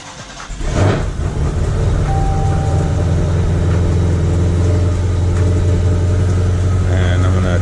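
A supercharged Dodge Challenger 392 with a Whipple blower cranks and fires up with a loud burst, then settles into a steady, deep, rumbling idle close by.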